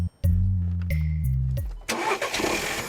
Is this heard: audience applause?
no